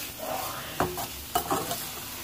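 Vegetables stir-fry in a pan for chicken spaghetti, a soft sizzle broken by a few sharp scraping and tossing knocks from stirring.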